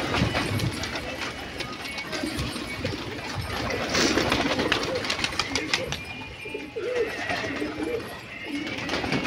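Pigeons released from their coop make a busy, continuous clamour of cooing and wing noise close by, with a voice speaking over it and steady background hum throughout.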